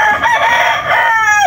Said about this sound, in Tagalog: basa yung ating mga manok dito sa ating